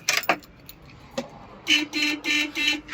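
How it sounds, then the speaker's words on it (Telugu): A 2018 Ashok Leyland diesel truck horn honks three times in short bursts, loud and close, after a few clicks and knocks. "Horn okay."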